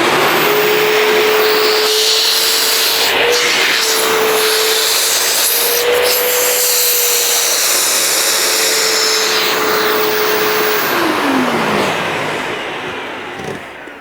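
A V-Tuf Mighty XL M Class industrial wet and dry vacuum cleaner runs loud and steady with a constant roaring whine, then winds down and fades near the end.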